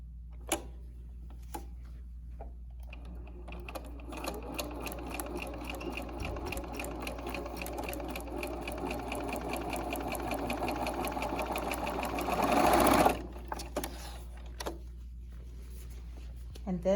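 Home sewing machine stitching a quilt block, a fast steady whir of needle clatter that builds and peaks near the end before stopping, with a few light clicks around it.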